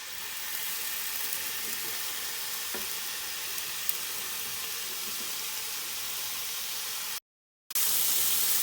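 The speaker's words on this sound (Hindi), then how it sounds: "अब हम लोग इसको इस तरह तवे पर रखकर पकाएंगे।" Chicken cheese kababs sizzle in two tablespoons of cooking oil on a hot tawa, a steady close frying hiss with faint crackles, broken by a short silent gap near the end before the sizzle resumes.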